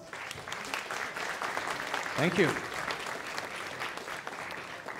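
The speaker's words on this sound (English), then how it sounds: "one big round of applause for Pyrofoos." An audience at a game design event in Berlin applauds in a sustained, even wash of clapping, with a brief spoken thanks rising over it midway.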